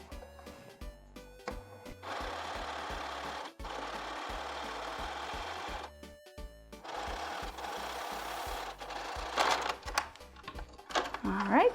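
A sewing machine zigzag stitching a denim scrap, running in bursts of rapid mechanical whirring separated by short pauses and clicks, with handling noises near the end.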